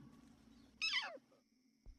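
A young lion cub gives a single high, wavering meow-like cry of distress at night, fairly close and clear against a quiet, low background hum.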